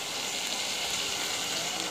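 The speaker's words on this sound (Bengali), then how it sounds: "পানিটা দিয়ে দিলাম" Water is poured into a hot pan of fish masala, setting off a steady, loud, bright sizzle and hiss that holds evenly from start to finish with no voices.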